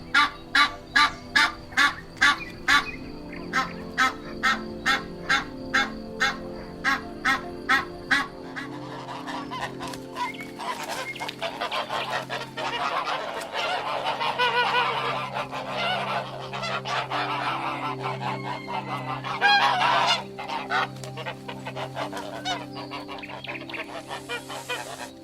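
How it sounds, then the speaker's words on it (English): A goose honks in a rapid series of loud, evenly spaced calls, then breaks into a dense, overlapping chorus of honking and cackling fowl that continues steadily to the end, with no talking. "A goose."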